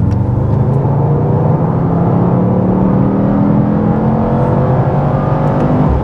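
A Mercedes-AMG GT 63 S E Performance rated at 843 hp accelerating hard, its engine note climbing steadily in pitch as it pulls, loud and continuous with no talk.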